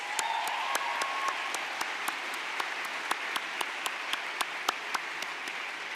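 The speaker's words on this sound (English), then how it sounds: "Let's give them one more round of applause." Audience applause at a college baccalaureate and awards ceremony for students honored for academic excellence, a steady dense wash of many hands clapping at moderate volume with a few sharper individual claps standing out, sustained throughout.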